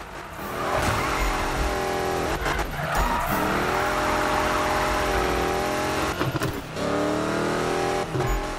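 A 1965 Ford Mustang Hoonicorn drifts in the 2015 Need for Speed game, its engine roaring loud and steady with squealing tires and pitch shifts as it revs through the slide, with no talk.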